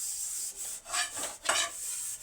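Household pots and utensils are scrubbed by hand at home, with a few firm, uneven rubbing strokes of a scourer against metal. The strokes are close and loud, with short pauses between them and no voices.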